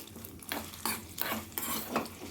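Cashews fry in a little oil in a pan, with a soft sizzle under repeated brisk scraping strokes of a spatula, close and fairly quiet.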